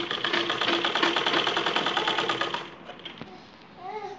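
A sewing machine runs a straight seam through cloth for a baby frock, a fast steady chatter for about two and a half seconds before stopping, followed by quiet handling and a faint voice.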